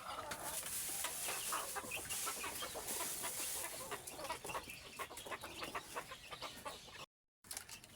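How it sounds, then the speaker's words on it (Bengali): Domestic chickens clucking softly while eating feed, with scattered pecking and scratching sounds at close range amid a busy, steady farmyard background. "আমার মুরগিগুলো কিন্তু খাবার অলরেডি খাচ্ছে"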